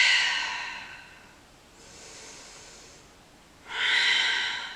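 Slow, deep yoga breaths at close range, with a long, breathy inhale or exhale, a quieter pause, then another strong rush of air, all unvoiced and alone.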